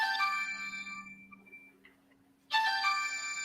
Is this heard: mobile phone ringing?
yes